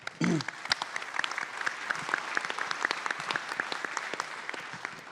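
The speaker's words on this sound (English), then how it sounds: "Please give Ashwin a round of applause" An audience at a pitch day for startup finalists in New Orleans applauds a presenter, steady dense clapping that opens with a brief tonal blip and carries on evenly at moderate volume.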